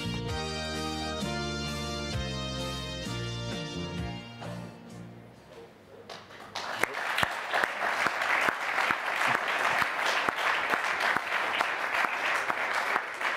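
Crowd applauding and cheering the arrival of sailor Jean Le Cam at a press conference, a dense, steady burst of clapping that follows music and carries on loud to the end.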